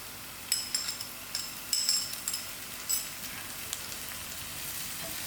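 Onions frying in a pan with ginger and garlic, stirred by hand: a constant close sizzle broken by several sharp crackling bursts and spoon scrapes in the first three seconds, then an even hiss, with no talking.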